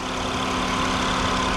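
A 2010 Honda Accord EX-L with a 3.5-litre VTEC V6 idles with a steady, even hum, alone and with no change in pitch.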